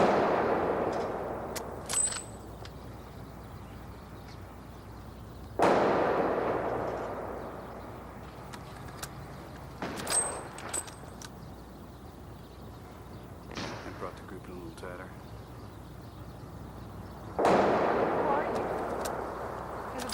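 A rifle is test fired in an action film, with about five loud, sharp gunshots spaced a few seconds apart. Each shot leaves a long, echoing decay before the next.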